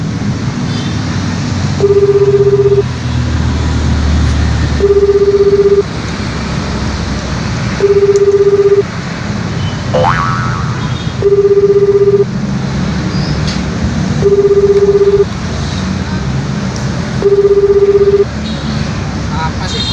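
Ringback tones of a phone call repeat six times in steady evenly spaced beeps, each lasting about a second, over a noisy street background in a Betawi comedy scene, with voices speaking in between.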